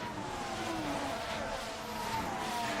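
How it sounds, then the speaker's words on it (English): Race cars in the F1 Manager 24 video game running slowly behind the safety car, a steady engine drone with rising and falling pitch and no talk. "we're behind the safety car."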